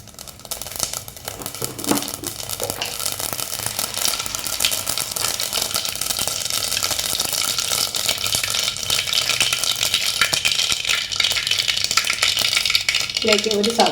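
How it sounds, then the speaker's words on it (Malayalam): Mustard seeds spluttering and crackling in hot coconut oil in a pan, a dense, steady sizzle of rapid pops that stays loud and close throughout, with faint clatter of a utensil near the end. "അതിലേക്ക് കുറച്ച് വെളിച്ചെണ്ണ ഒഴിച്ച് കൊടുക്കാം. ഒരു ടീസ്പൂൺ കടുക് ഇട്ട് കൊടുക്കാം."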